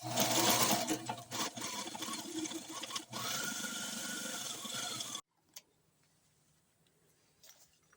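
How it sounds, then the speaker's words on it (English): A sewing machine runs in steady, loud bursts while stitching back and forth over small fabric pouch handles, with brief pauses, then stops abruptly near the end, leaving near silence and faint handling noises. "I'm going to go back and forth a lot over these little handles."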